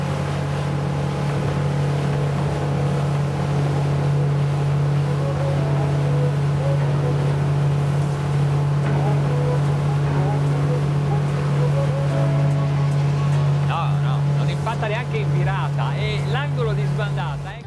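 NX 290 Grand Style motor boat running steadily on the water while veering, with a constant deep engine drone and hull and water rush; a voice talks over it throughout.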